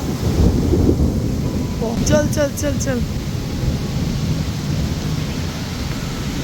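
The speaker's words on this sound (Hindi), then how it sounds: "इतनी ज़बरदस्त ये बारिश हो रही है।" Heavy rain pours down in Genting Highlands, Malaysia, a broad, steady roar of rainfall with a low rumble underneath. A person briefly calls out over it.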